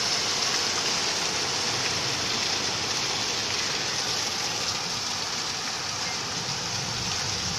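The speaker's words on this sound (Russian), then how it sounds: "Это льет вода с крыши." Rainwater pours off a roof into a tank during a summer downpour, a steady dense hiss and splash of falling water that stays even and continuous throughout.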